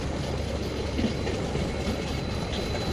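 A passenger train pulling out of a station, heard from on board: a steady, loud rumble of wheels and carriages with a continuous low roar and no pauses.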